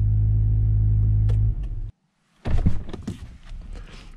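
A 2019 Acura NSX engine idles with a deep, steady drone, then shuts off abruptly, leaving a brief silence before nearby clunks and rustling handling sounds follow.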